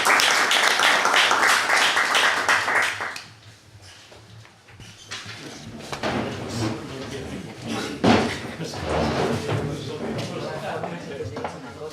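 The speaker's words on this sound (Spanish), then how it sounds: "Y yo pido para acabar la sesión pues un aplauso" Audience applause closing a morning university session on patronage and funding, a dense broadband clatter of many hands for about three seconds, then fading into a quieter room with scattered claps, shuffling and murmured voices.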